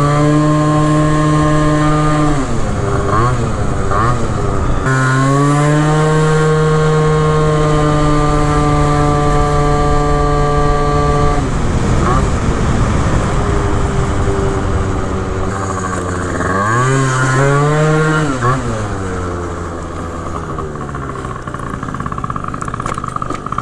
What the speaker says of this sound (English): I want to try this thing. It's the Ruckus with a Zuma motor.